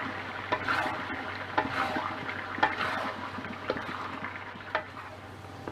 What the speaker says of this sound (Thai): แล้วก็ผัดไปเรื่อยๆนะคะ